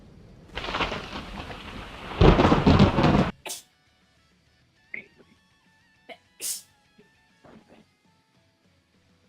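A single sneeze bursts out indoors during a Dragon Ball Saiyan Strikers game session, loud and close, followed by a few short scattered sounds and quiet.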